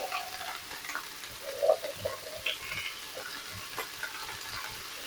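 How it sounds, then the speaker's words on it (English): Cut asparagus sizzles in a pan with onion and pork, a steady, fairly quiet frying hiss with occasional light stirring sounds. "now I'm going to add the asparagus to my pan"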